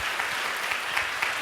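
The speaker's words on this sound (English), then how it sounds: "Give them another round of applause," Brief burst of audience applause at an exhibit presentation, a steady, dense patter of many hands clapping with a few sharper claps standing out.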